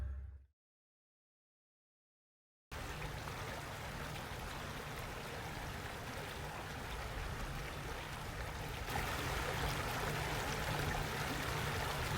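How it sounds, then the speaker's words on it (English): Water dripping and trickling from a truck camper skylight on a winter night at -15ºC, a steady wet patter that starts after a short silence and carries on without any talking. "There's water dripping from my skylight."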